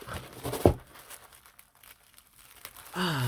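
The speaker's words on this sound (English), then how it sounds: "isn't that satisfying to be able to open a package without tearing the sticker?" A sticker package is peeled open with soft crinkling and a sharp crackle of plastic, followed by quieter rustles and a louder crinkle at the end.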